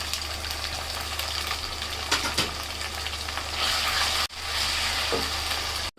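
Whole spices such as nutmeg and mace sizzle steadily in hot oil in a pan while chicken roast is cooked in a Dhaka kitchen. The frying is loud and close, with a sharp clatter partway through and a renewed burst of hissing afterward.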